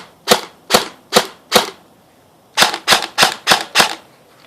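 Nine sharp airsoft gun shots through a cheap foam-filled suppressor, crisp and close, fired as four evenly spaced shots, a brief pause, then five quicker ones, with no talking.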